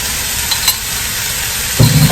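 Garlic sizzles steadily in a pan while a spoon stirs it for a chicken egg roll in a bowl, a close, bright frying hiss with a soft scrape partway through and a louder clunk of the spoon near the end.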